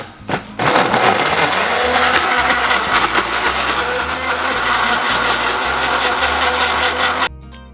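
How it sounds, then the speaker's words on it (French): A kitchen blender whirs loudly as it purées a goat cheese mousse, starting after a brief pause, running steadily with shifting pitch as it's shaken, then cutting off abruptly near the end. "je vais secouer comme un barbare mon mixeur"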